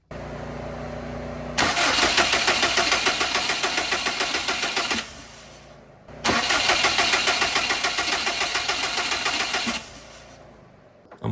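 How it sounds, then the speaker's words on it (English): A Subaru WRX engine cranks over after a turbo install, two long starter-motor cranking bursts of about three and a half seconds each with a rapid pulsing churn, loud and close, separated by a brief quiet gap. "So my goal is to just crank it over a couple times."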